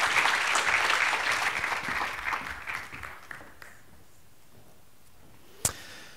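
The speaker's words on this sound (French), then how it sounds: "Et vous pouvez les applaudir évidemment." Audience at a French round-table panel claps, a dense burst of applause that thins out and fades over a few seconds, leaving scattered single claps and near silence at the end.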